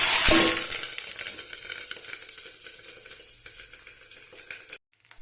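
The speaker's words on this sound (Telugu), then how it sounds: "ఇక చూడండి, తాలింపులు వేసాను" A loud burst of sizzling as mustard-style tempering spices hit hot oil for okra fry, settling into a steady crackling hiss that slowly fades before cutting off near the end.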